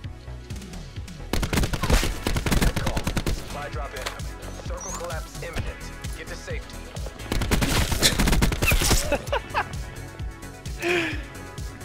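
Rapid bursts of video game gunfire, some automatic and some single shots, repeat loudly through the clip while a player reacts with gasps and laughter.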